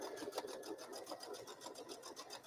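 A sewing machine stitches a zipper into fabric, its needle running in a fast, steady rhythm at close range with no talking.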